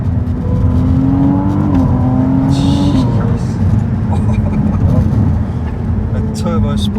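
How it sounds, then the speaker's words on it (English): Ferrari 296 GTB V6 turbo engine spooling up under acceleration, a steady loud drone with a rising whine heard from onboard, while a person talks over it. "A turbo spool."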